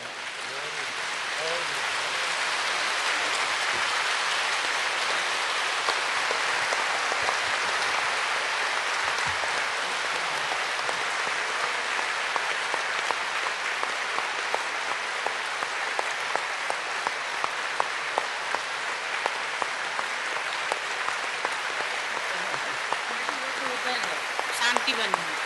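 An audience applauds for Dadi at a spiritual gathering, a broad, sustained wash of clapping from many hands that holds steady for the full span, with a few sharper claps near the end.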